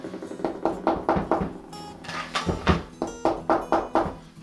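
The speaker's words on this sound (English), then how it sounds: "Way to see if it's done, it's to sort of knock on it." Knuckles rap on a freshly baked bread loaf to test whether it is done, producing quick, close, hollow knocks in several rapid bursts with short pauses between, and no talk.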